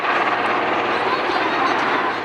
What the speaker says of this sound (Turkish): naaşı helikopterle köye götürüldü.